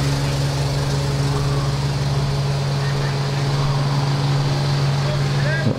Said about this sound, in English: Got a fair mower by the sound of it